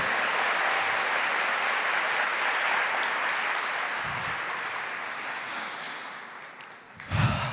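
A church congregation applauds during a Catholic priest's preaching, a broad, even roar of clapping that holds steady, thins gradually, then ends with a few close breathy sounds near the microphone.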